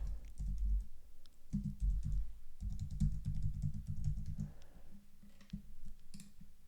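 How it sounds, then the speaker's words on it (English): A password is tapped out on a computer keyboard at a sign-up screen, a run of soft, close key clicks in quick uneven bursts over a low background hum, with no voices. "just type your password"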